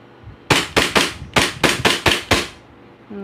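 Glock 34 replica pistol test-fired with a long magazine: eight sharp, loud, close shots in a quick, slightly uneven rhythm, followed by a faint mechanical click.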